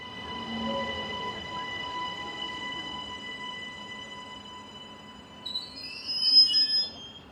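A brand new three-car Class 160 unit pulls into Ringgenberg station on a service from Meiringen, with steady tonal whine and rail hum, then rising wheel squeal and brake screech as it slows, no voices.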